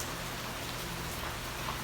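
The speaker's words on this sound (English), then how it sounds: "recent rain that you're experiencing right now. But I like the rain." Steady rain falls outdoors in Key West, a constant, even hiss of drops with a low rumble beneath, with no voices.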